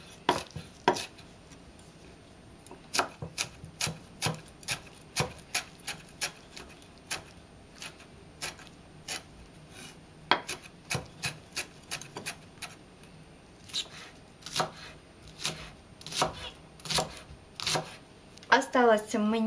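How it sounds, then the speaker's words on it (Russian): Rapid knife chopping of dill and onion on a board, sharp close taps in irregular bursts, with a brief pause and quicker strokes near the end. "Также все нарезаем очень мелко"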